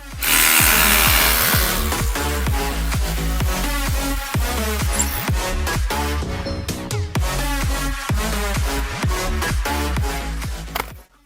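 Paving stones being prised out and lifted by hand with tools on a damaged block-paving surface, producing a rapid, continuous series of loud, close scraping knocks, clacks and stone-on-stone clatters with no talking.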